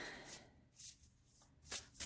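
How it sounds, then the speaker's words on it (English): Tarot cards are shuffled by hand in a quiet room, with several soft, papery riffling bursts spaced through the moment, close and faint. "So I'm going to keep shuffling"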